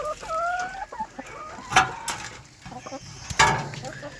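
Chickens on a rainy day in Jamaica, with a few short clucks and squawks scattered over quiet background, fairly close, plus a brief faint voice.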